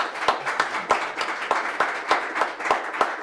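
A small group at a school district meeting in Boonville, Missouri claps with a brisk, steady rhythm, distinct individual claps audible under a wash of applause, fairly close.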